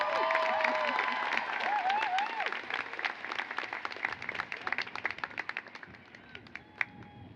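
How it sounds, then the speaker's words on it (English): A commencement crowd at a university graduation ceremony applauds and cheers, with loud, dense clapping and shouts that gradually thin out into scattered claps, while a voice speaks at the start. "let's give her a big round of applause."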